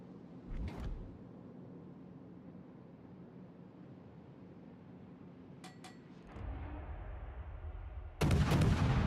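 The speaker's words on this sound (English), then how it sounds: "Concentrate fire on that enemy warship." Warship main guns firing in a naval combat game, a few heavy booming salvos spaced several seconds apart, the last one loud and close, over a low steady sea-and-engine rumble.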